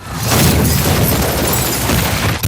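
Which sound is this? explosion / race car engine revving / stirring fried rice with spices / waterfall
explosion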